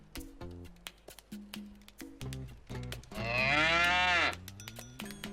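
A Bororo cow in the video game Sand Land lets out one long, loud moo amid intermittent clattering and clicking noises, with no one speaking.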